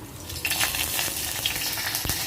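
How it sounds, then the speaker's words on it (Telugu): Tempering seeds, dried chilli, small onion and curry leaves fry in hot oil in a pan, making a steady bright crackling sizzle that runs throughout with a few sharper pops. "ఇంకా ప్యాన్ పెట్టి ఆయిల్ వేసుకొని తిరగమాత గింజలు అన్నీ వేసుకోవాలి."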